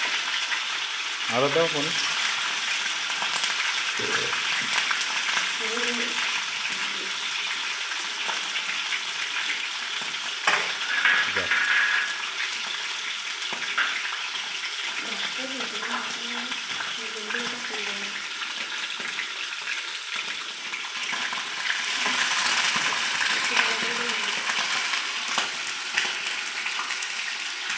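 Food sizzling in a pan after being poured in along with water, a continuous close frying hiss with watery bubbling, interrupted by brief voices talking nearby.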